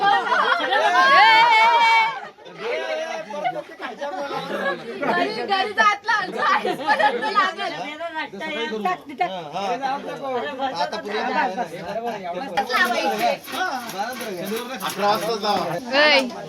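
A crowd gathered for outdoor cooking of marinated chicken and potatoes chatters nonstop, with many voices overlapping up close and a few louder calls and laughs rising out of the babble.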